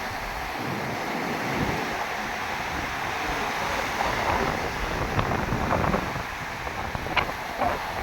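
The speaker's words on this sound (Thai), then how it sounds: "คลื่นยังแรงเลยนะ" Strong sea waves wash onto a sandy beach that is being eroded, a steady rushing surf roar with wind buffeting the microphone and a few brighter splashes toward the end.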